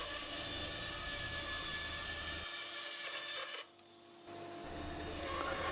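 Tenon saw cutting through wood by hand to make handles for a sliding-lid wooden box, a steady close rasping stroke that runs continuously, pauses briefly near the middle, then resumes.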